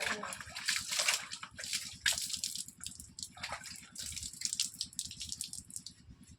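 Water poured over a person's body during a bath in cold weather, heard as a series of close, splashy gushes and sloshes that come in uneven bursts, with a low voice murmuring underneath.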